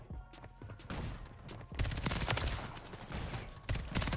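SMG fire in Modern Warfare 3 multiplayer on a very small map. Repeated bursts of gunfire over a steady game background, with a denser, louder volley in the second half.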